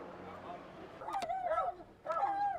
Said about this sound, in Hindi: तो देखो गाड़ी में कुत्ता छोड़ के कुत्ते पागल हो गए।